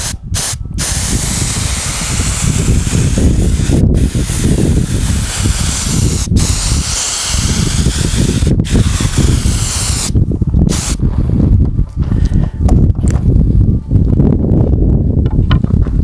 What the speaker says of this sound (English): I'm using about 50 pounds of pressure out of my air compressor. So let's just put a finish on this real quick